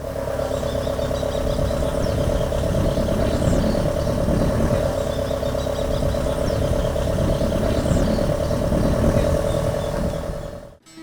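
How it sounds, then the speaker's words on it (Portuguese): A tractor engine runs steadily on a farm in Sergipe with waterlogged ground, a close, even diesel drone with a constant low clatter and a sustained mid-pitched hum for about ten seconds before it cuts off at the end. "hoje o trator só serviu para dar um passeio com a família"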